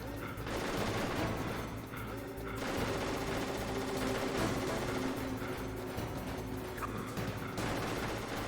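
Rapid machine-gun fire from a walking turret in Metal Gear Solid, a sustained dense rattle of shots running almost continuously from start to finish, loud and close with steady intensity.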